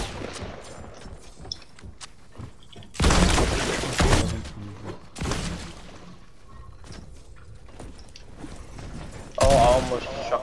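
Shotgun blasts in the video game Fortnite: two loud, broad bursts, one near the middle and one near the end, over quieter game sounds with a voice talking.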